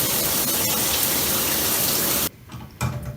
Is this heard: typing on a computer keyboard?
no